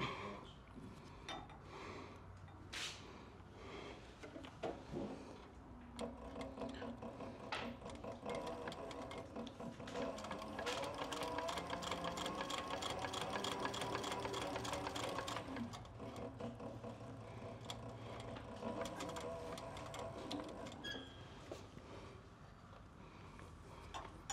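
A leather sewing machine stitches a seam in a steady, fast mechanical clatter that runs loud and continuous for most of the stretch, easing off near the end, with no voices.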